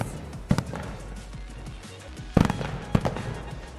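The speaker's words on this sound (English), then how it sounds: "how the fireworks go up in the Marangom Ke Jaipal Singh Munda AstroTurf" Fireworks burst over the AstroTurf hockey stadium at the Hero Women's Hockey India League final, with a few sharp bangs and crackles over crowd noise.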